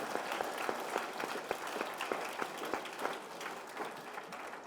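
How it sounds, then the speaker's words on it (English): Sustained audience applause at a school speech finals awards ceremony, many hands clapping steadily and fairly loud with a few sharper claps standing out, no talking over it. "Let's give a round of applause to the MCs because they never get thanked."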